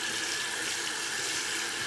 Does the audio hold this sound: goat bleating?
no